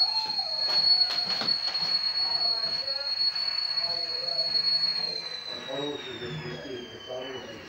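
A high, steady whistling tone keeps sounding while dinner cooks, sliding slightly lower in pitch toward the end, with someone talking and kitchen clatter beneath it.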